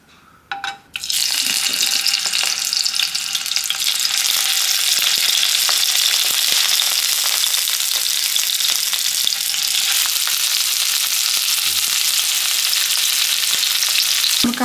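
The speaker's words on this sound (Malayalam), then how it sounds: "ഞാൻ നെയ്യിൽ ഒന്ന് ഷാഡോ ഫ്രൈ ചെയ്തെടുക്കും" Chicken shallow frying in ghee, a loud, steady, close sizzle that starts abruptly after a brief quiet moment and holds an even crackling hiss throughout.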